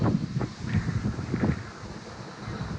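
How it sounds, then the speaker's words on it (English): Wind blowing across a hotel balcony overlooking a savanna at Animal Kingdom Lodge Jambo House: steady gusty buffeting against the microphone, with soft rumbling puffs rising and falling throughout. "Wind's kicking up. I'm not sure if you can hear it in the video."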